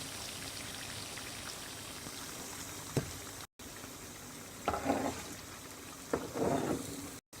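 Sabudana vada frying in hot oil, a steady low crackle and hiss with a few louder bursts of sizzling spitting up near the end, no voices.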